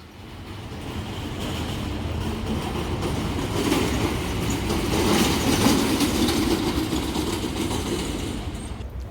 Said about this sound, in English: someone decided to drive their rickety trailer down a cobblestone road